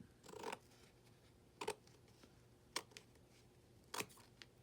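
Scissors cutting paper into a flower shape for altered-book decorating: a few short, quiet snips spaced apart, close by in a hushed room.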